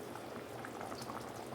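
Butter chicken curry bubbles at a steady simmer in a covered pan over medium flame, a dense, continuous low gurgle and pop, quiet and close, with no voices.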